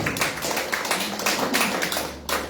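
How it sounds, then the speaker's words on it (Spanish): A church congregation clapping hands together during a Sunday service, a quick run of close, sharp claps with a brief pause near the end. "Dale una ofrenda de palmas al Señor."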